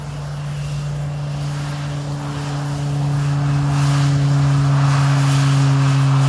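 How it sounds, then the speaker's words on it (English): Vintage DC-3 propeller airliner at an African airfield, its radial engines droning steadily with a strong low hum that swells louder toward the end as power builds for takeoff; no voices. "DC-3 preparing for takeoff."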